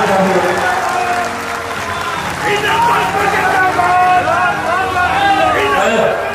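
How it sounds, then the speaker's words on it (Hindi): A crowd at a political rally in Hajipur claps loudly, the applause rising under an amplified voice that talks continuously over it along with crowd murmur. "मैं चाहता हूँ एक बार जोरदार ताली से आप लोग"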